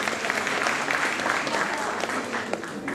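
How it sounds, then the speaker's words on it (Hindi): Loud, dense applause fills a hall as an audience welcomes fasting ascetics at a Shikharji pilgrimage gathering, steady and continuous throughout. "इन सबके लिए जोरदार तालियों से स्वागत"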